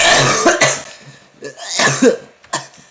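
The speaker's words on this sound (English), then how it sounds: "I either do not talk or cough a lot because again, I have a horrible cough" Several harsh coughs and throat-clearing bursts, close and loud, coming in irregular clusters with short pauses between.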